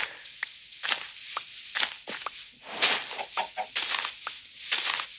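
Minecraft chickens cluck in short, repeated bursts against a steady hiss, with soft footstep-like taps mixed in and no talking.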